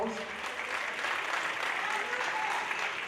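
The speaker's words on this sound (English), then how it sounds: "Big round of applause." Audience applause fills a graduation ceremony hall, a steady dense wash of clapping that holds at an even level for about three seconds.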